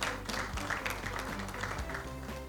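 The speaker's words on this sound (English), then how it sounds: "A round of applause, a thunderous round of applause to all of them." Applause for new members of the Young BIGWIG Community at an essay competition prize presentation, steady clapping from an audience running the whole time over a low musical backing.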